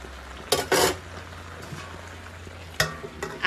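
Local chicken and pumpkin frying in a pan, a low steady sizzle punctuated by a few sharp bursts of scraping and stirring against the metal.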